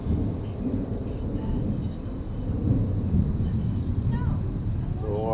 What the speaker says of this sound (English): Thor the Thunder God, he comes.